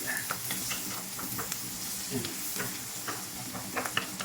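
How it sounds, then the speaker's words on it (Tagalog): Hotdog pieces fry in a pan for creamy macaroni soup with eggs, a steady crackling sizzle broken by scraping stir strokes and small pops, close and without talk. "Pritong-prito na po yung ating hotdog."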